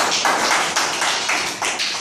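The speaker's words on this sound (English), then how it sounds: "Clap, clap." Children in a first-standard classroom clap in unison, about five or six sharp, evenly spaced group claps in a steady rhythm, close and fairly loud with no talk over them.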